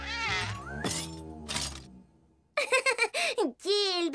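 A cartoon cat meows from inside a toy box, giving several drawn-out, wavering meows that are loud and close. Brief stretches of quiet separate the calls.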